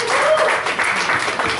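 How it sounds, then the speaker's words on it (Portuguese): A crowd at a rock club show claps steadily in praise, a dense wash of applause with a voice or tone sounding faintly over it. "Louvado seja Jesus com as suas palmas"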